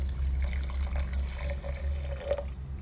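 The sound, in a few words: pouring hot water into pot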